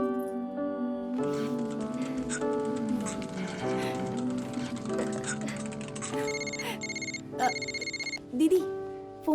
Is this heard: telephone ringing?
yes